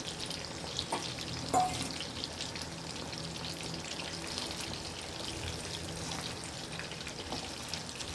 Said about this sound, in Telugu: దీంతో పాటు చిల్లీ కూడా వేసుకోవాలండి, వేగిపోతాయి.